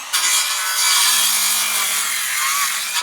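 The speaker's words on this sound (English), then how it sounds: "I've still got to cut that with that Dremel tool to get those off" A Dremel rotary tool cutting, with a loud, continuous high-pitched grinding whine held steadily at close range with no talking.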